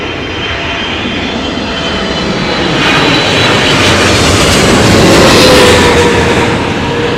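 A Saudia airliner arriving from Riyadh at London Heathrow in strong storm winds, its broad engine roar swelling as it passes close overhead, with wind noise throughout and no talking.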